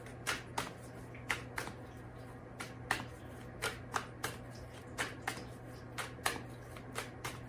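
Tarot cards being shuffled during a reading, a steady run of crisp riffling bursts roughly every half second, moderately close over a faint constant hum, with no talking.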